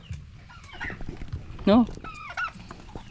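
Chickens at feeding time, with a rooster and turkeys kept nearby, give a few short clucking calls, one loud harmonic squawk in the middle and a higher call soon after, over a low background murmur and a brief spoken word.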